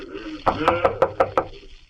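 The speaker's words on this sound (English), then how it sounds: "every time I knock, wait and you shall see. Here's the door." Knuckles rap on a laboratory door in a burst of six evenly spaced knocks, close and crisp, in a stage-drama setting.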